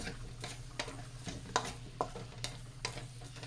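Shrimp in butter sizzle steadily in a pan while a utensil stirs them, giving rhythmic scrapes and light clinks over a constant low frying hiss.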